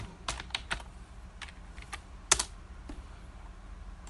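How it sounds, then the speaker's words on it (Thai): Quiet, irregular clicks of a computer keyboard as someone types a search into the Chrome Web Store, with a few sharper keystrokes standing out against a low room hiss. "พิมพ์ไปเลยครับ MetaMask"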